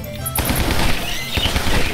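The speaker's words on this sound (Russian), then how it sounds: "Это у меня там пулемет." Machine gun fire in the video game Guns, Gore and Cannoli, a loud close burst of rapid shots lasting almost two seconds, with dense rattling and a brief pause near the middle.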